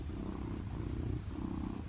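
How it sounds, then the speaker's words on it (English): A cat purrs up close, a steady low rumbling vibration pulsing evenly throughout, with no voices over it. "Oh, hello, he's purring."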